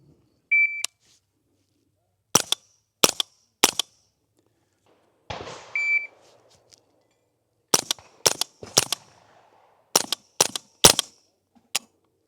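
Shots from an SLR9 AR9 rifle with a Hyperfire trigger ring out outdoors at a range, sharp loud cracks fired singly and in quick pairs with gaps between them, plus a couple of short electronic beeps.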